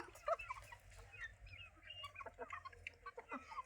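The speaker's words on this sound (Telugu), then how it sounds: "మీకు ఇందులో ఏ కోడి నచ్చిందో కామెంట్ చేయండి" Native country chickens clucking softly in a rural yard, several birds giving scattered short clucks and murmurs close by at low volume, with no clear talk.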